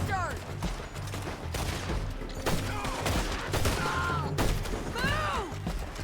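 Shootout gunfire in a Western bounty-hunting video game, several loud sharp shots and bursts cracking out one after another over a few seconds, with shouting voices and whistling ricochet-like tones between the blasts.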